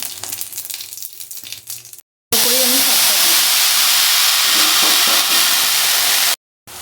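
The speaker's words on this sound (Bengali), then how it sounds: "অল্প কটা বড়ি ভেজে নেব পাঁচ ফোড়ন দিয়ে দিলাম" Panch phoron sizzling in hot white oil in a pan, with a loud, bright, steady hiss that starts suddenly after a quieter stretch and runs for several seconds before a short break.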